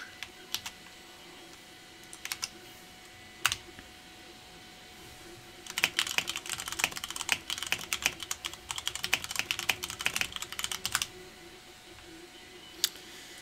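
Fast typing on a computer keyboard, with scattered clicks at first and then a dense burst of rapid keystrokes in the middle before it tapers back to occasional taps; close and fairly quiet, with no talking.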